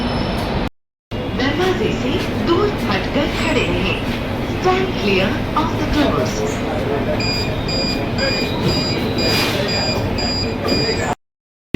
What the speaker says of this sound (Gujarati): આ રીતના હવે આપણે ટ્રેન શરૂ થશે અને હું તમને મેટ્રોની સફર કરાવું